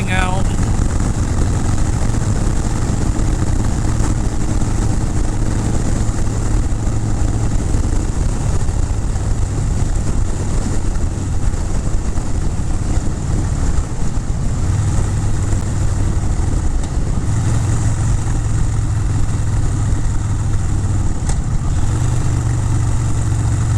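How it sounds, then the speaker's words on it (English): Continuous motorcycle engine drone with heavy wind rush while riding along a road, loud and close throughout, with a rider talking over it. "despite the wind and engine noise"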